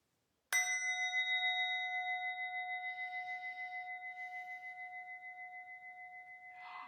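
A remembrance bell is struck once and rings out clear and close, its pure metallic tone pulsing slowly as it decays over several seconds in a quiet room.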